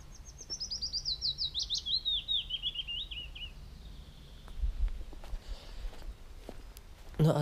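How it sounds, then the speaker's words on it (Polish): A bird sings a rapid descending trill of chirps, followed by quieter outdoor ambience with soft footsteps and rustling. "Na razie tylko ptaki."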